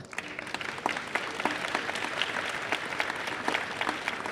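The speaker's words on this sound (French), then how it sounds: "Je pense qu'on peut les applaudir." Steady applause from a conference audience, many hands clapping continuously at an even level for a few seconds with no voices on top.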